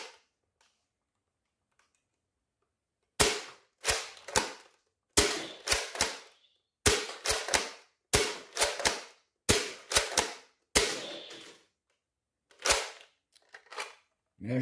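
A modded Nerf Recon blaster fires Elite foam darts in a series of sharp, close snapping shots, grouped in quick bursts of two or three with short pauses between, after a quiet start.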